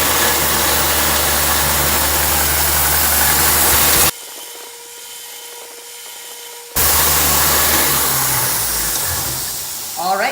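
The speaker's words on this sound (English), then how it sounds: "we want to come on over to the horizontal edge sander" A horizontal edge sander smooths the edges of a wooden block, a loud steady motor whine with abrasive rubbing that drops out briefly mid-clip before returning at full strength.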